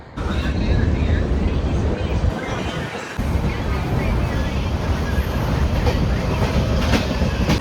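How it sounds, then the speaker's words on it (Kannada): Passenger train on the Vijayapura to Bengaluru route setting off, a steady loud rumble of wheels and carriage noise that continues throughout, briefly dipping near the middle, with speech mixed in. "ಈಗ ಟ್ರೈನ್ ಅಂದ್ರು ಹೊಂಟದ"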